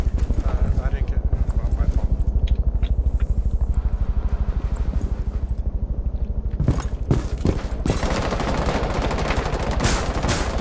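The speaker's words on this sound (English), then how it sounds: "Oh, she's shooting at you too." Rapid automatic gunfire in Rainbow Six Siege on the Border map in team deathmatch, a fast, steady stream of shots through most of the clip, with heavier bursts near the end and players talking over it.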